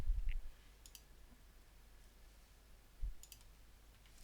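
Computer mouse clicks in astronomy image-processing software, a couple of soft, close single clicks spaced a few seconds apart over quiet room tone.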